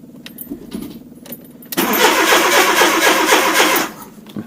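A turbocharged Fiat Panda engine cranks and catches after faint jangling and clicks, then runs loud and steady at close range for about two seconds before settling as the revs drop.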